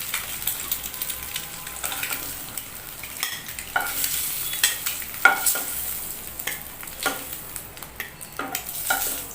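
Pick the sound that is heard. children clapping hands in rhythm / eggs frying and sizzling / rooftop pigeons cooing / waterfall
eggs frying and sizzling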